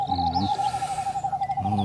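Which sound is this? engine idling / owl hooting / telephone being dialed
owl hooting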